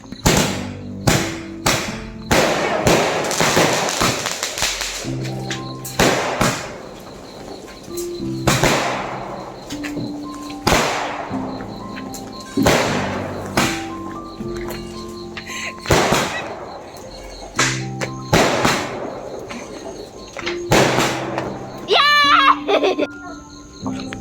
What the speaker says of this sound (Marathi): आता फटाके लावायचे आहेत.